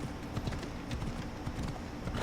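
A horse's hooves gallop in Assassin's Creed Odyssey, a steady rapid clip-clop of hoofbeats running continuously at moderate volume over a low ambient rumble.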